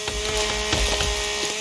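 A chainsaw buzzes steadily as it cuts down a tree in the survival video game The Forest. The whine holds at one level for the whole stretch with a faint wavering, and no one speaks over it.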